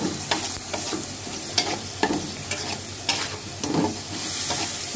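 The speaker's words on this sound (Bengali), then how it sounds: "পেঁয়াজ কুচিটা ভেজে নিচ্ছি" Chopped onions sizzle in hot oil in a wok as they are stirred, giving a continuous frying hiss broken by regular scraping strokes of the spatula.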